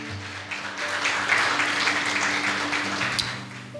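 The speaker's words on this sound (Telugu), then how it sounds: "అందరూ చప్పట్లతో దేవుని గణపరచుదాం" A church congregation claps through a Telugu fasting prayer service, a sustained wash of many hands at fairly even loudness, with low held musical tones beneath.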